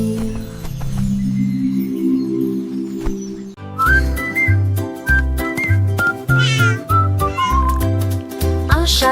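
A cat meows several times in short, rising and falling calls over a French children's nursery-rhyme song, with bouncy music and bass playing throughout.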